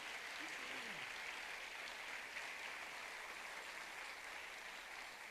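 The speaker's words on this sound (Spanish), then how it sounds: "Denle esa ofrenda de palmas fuerte al Señor." A church congregation claps together in a steady, sustained round of applause that fills the room evenly, with a brief faint voice near the start.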